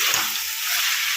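Onions fry in oil with a brief, steady, close sizzling hiss.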